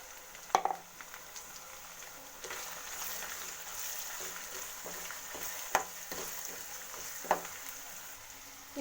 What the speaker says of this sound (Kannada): 1/4 ಸ್ಪೂನಷ್ಟು ಶುಂಠಿ ಬೆಳ್ಳುಳ್ಳಿ ಪೇಸ್ಟ್ ಹಾಕ್ಕೋತಿದ್ದೀನಿ. ಹಸಿ ಸ್ಮೆಲ್ ಹೋಗೋ ತನಕ ಇದನ್ನು ಹುರ್ಕೊಳ್ಳೋಣ.